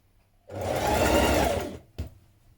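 A sewing machine stitches a onesie side seam (McCall's 7518) in one steady burst of about a second, followed by a brief short blip, with no voices.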